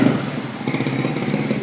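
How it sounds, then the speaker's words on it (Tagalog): Motorcycles with loud aftermarket exhaust pipes rumble nearby on a street, a rough, choppy engine putter that stays steady and fairly loud for the whole moment. "Oh, ang iingay ng mga motor dito, may tambutso na."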